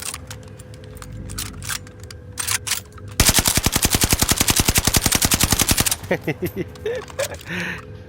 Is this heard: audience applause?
no